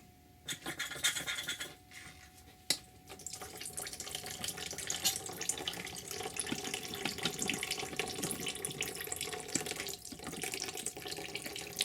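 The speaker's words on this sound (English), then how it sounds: "That's siphoning that water out." Coolant water siphoning through a tube from a Honda CBR1000RR (2009) expansion tank into a bowl, a steady close gurgling stream with a few scratchy handling clicks early on, continuous throughout with no talking.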